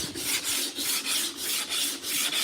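Rhythmic back-and-forth rasping of a sanding block on day-old body filler on a 1986 square-body truck, about eight steady strokes, close and fairly loud with no talking.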